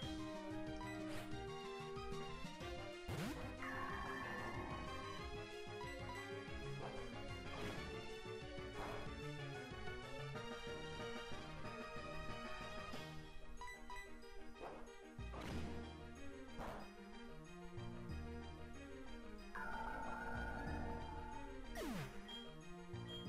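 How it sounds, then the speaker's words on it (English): Cave background music from the video game Pokemon SoulSilver plays continuously, a dense, steady loop with recurring percussive hits and melodic phrases, fairly loud throughout with no talking. "I'm not sure, but it sounds like this cave music."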